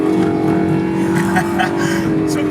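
A Honda NSX GT3 race car engine drones steadily and loudly from close by as the car rounds a hairpin, holding an even, sustained tone throughout.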